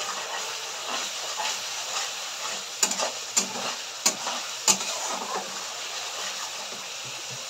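Spice masala for a fish curry frying in a pan, a steady loud sizzle and hiss with a few sharp clinks of stirring in the middle.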